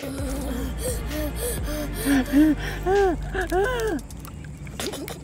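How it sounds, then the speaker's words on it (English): A person breathes in quick, audible gasps and pants, close to the mic, several short breaths in a row with a little voice mixed in. "I was breathing fast."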